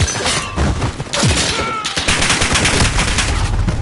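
Rapid gunfire in the Modern Warfare video game, loud sharp bursts and cracks overlapping into a dense fusillade, with a whooshing sweep and crashing impacts throughout.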